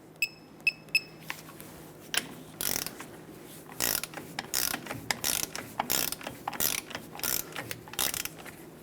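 Torque wrench tightening the front brake caliper bolts on a 2000-2005 Ford Excursion: repeated bursts of close, sharp ratcheting clicks in an uneven rhythm, with a few faint ticks at the start and no talking.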